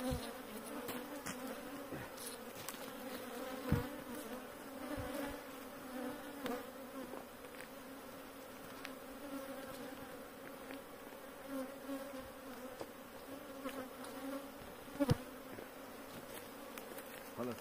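Dense, steady buzzing of bees around wooden beehives during a honey harvest in an apiary of 37 hives, a continuous close swarm drone with occasional louder passes near the listener.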